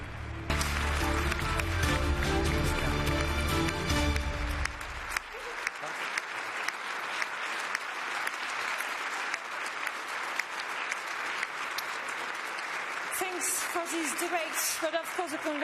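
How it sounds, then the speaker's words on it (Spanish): Audience applause closing a European Parliament election debate in 2019, a loud sustained clapping crowd with low music fading out in the first few seconds, then steady dense clapping continuing to the end. "Un aplauso, señoras y señores."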